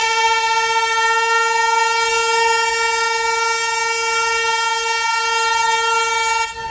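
A loud, steady train horn on the Bahauddin Zakaria Express blares continuously, a rich stack of tones held for several seconds without a break before cutting off at the end.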